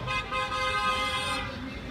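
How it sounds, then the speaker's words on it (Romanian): A car horn honks during a street opposition protest, a sustained bright toot held for most of the moment against crowd and traffic noise, fading near the end. "Greu de interpretat claxonul ăsta."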